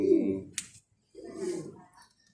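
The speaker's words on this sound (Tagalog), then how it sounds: "ang mga alaga nating ibon na ito" Pet pigeons coo in two soft, throaty bursts close by, separated by a short pause, with a brief flutter-like rustle between them.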